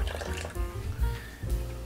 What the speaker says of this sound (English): Pass it through the sieve.